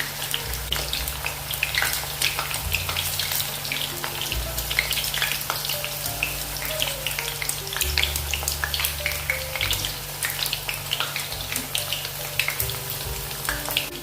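Oil poured over potatoes frying for crispy potato Manchurian, a loud dense sizzle with crackling pops that stays strong throughout over a low steady hum, no speech.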